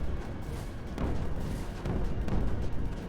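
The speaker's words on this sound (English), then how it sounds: "Oh, we did get a cannon up top." Cannon fire in the Creeper World 4 strategy game, a rumbling run of low booms with sharper thumps near one and two-and-a-quarter seconds, layered over continuous dense battle noise.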